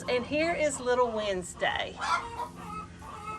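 Small silkie chickens cluck and chatter close by in a backyard coop, giving short, rising and falling calls while someone talks over them.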